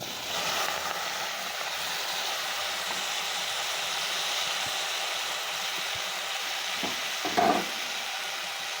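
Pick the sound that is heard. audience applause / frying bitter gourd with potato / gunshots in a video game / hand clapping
frying bitter gourd with potato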